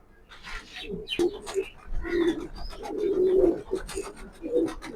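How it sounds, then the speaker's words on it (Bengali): Pedigree racing pigeon squabs coo softly in a loft, several low repeated calls close by with faint rustling and brief background voices. "তো আর দেরি না করে চলুন সরাসরি কবুতরের কবুতরগুলো দেখানো যাক"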